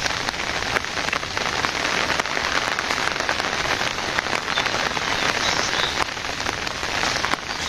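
Rain pours steadily onto surfaces outdoors, a dense, continuous patter of drops that stays loud and even from start to finish, with no voices.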